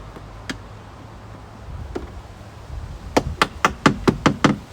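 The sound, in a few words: tapping plastic trim clips into place on a BMW E46 M3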